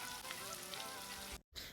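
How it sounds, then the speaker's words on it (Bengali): Chopped onions sizzle in hot oil with nigella seeds, a bay leaf and garam masala for a Bengali hilsa curry, a soft crackling hiss up close that cuts out briefly near the end. "পেঁয়াজগুলোকে একটু ভাজা ভাজা করে নেব।"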